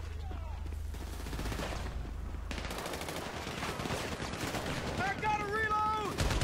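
Dense automatic gunfire rattles through a Grand Theft Auto V warehouse shootout, loud and continuous with rapid bursts, while voices shout briefly over the shooting.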